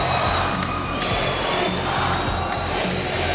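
Canberra Brave ice hockey fans chant at the AIHL Grand Final against the Sydney Bears, a loud, dense roar of massed voices sustained throughout with a rhythmic, pulsing shout.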